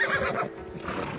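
Horse neighing in the video game Assassin's Creed Odyssey, a single loud, near whinny that wavers for about a second with no talk over it.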